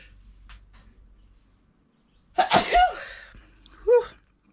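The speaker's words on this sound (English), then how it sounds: "I'm about to sneeze" A single sharp human sneeze bursts out close by in a quiet room during papyrus paper crafting, followed by a short vocal exhale about a second later.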